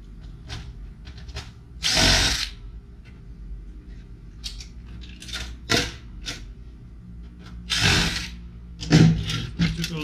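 A power drill fitted with a long bit whirs in several short bursts while backing screws out of a computer tower, close by, with light clicks and handling noise of the metal case between runs.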